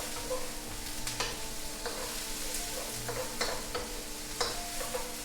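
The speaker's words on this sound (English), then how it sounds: "I'm going to let these onions cook for about 2 minutes" Onions stir-fry in a wok for a seafood stir fry, an even hiss of frying broken by repeated sharp spatula scrapes and taps at irregular intervals, close and unaccompanied by speech.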